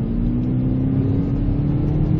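A 2019 Hyundai Elantra Sport accelerates in sport mode, its engine droning steadily and rising slightly in pitch, with a constant loud interior hum and no voices.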